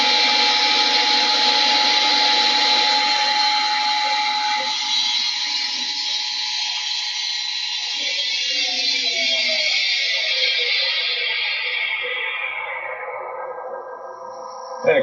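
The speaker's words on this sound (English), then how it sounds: "And of course my compressor just kicked on." Workshop air compressor running beside a lathe, a loud steady whining drone with a motor hum that gradually winds down in pitch toward the end, no talk over it.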